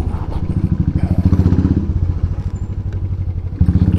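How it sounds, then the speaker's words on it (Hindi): A motorcycle rumbles close by at low speed with a pulsing, uneven idle as it rolls in and is parked outside a roadside restaurant, the exhaust thumping steadily with a brief rise near the end. "चल इधर लगा देते बाइक"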